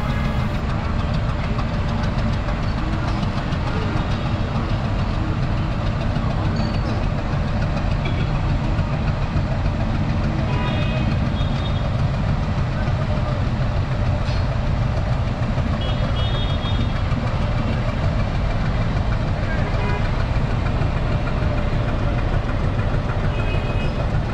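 A Nilgiri mountain toy train locomotive idles at Coonoor railway station with a steady, low throbbing rumble and knocking, continuous and close, with faint clanks now and then.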